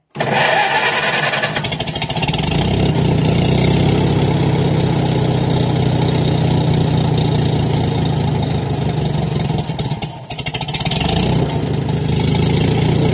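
An engine idling at low throttle, a loud, continuous close-up drone with a brief dip in level near the end.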